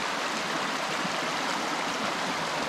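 Steady broadband rush of creek water flowing near an old mill raceway at Buckhorn, continuous and fairly loud with no talk.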